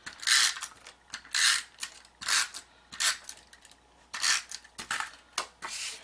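Tape runner adhesive rolled across paper while a Halloween treat bag is made, giving a series of short, raspy clicking strokes in quick bursts, fairly close and distinct, with no talking.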